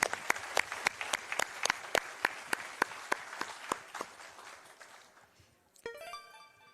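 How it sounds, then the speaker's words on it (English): An audience at a speedrun marathon event claps after a Zelda game run, with sparse, evenly spaced individual claps rather than dense applause, fading out before a short electronic chime. "That deserves a round of applause."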